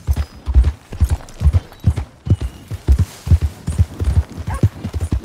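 Horse hooves clip-clopping at a steady walking rhythm in the Western game Red Dead Redemption 2, close and clear, with faint background ambience.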